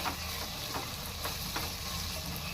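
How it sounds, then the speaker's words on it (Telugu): Mixed vegetables for vegetable biryani fry in a pan after sitting covered: an even, low sizzle with a few faint stirring scrapes. No voices. "వెజిటబుల్స్ కుక్ అయ్యే వరకు. ఓకేనండి, 5 నిమిషాలు ఉన్నాం కదా, వేగుతుంది కదా చూసారా"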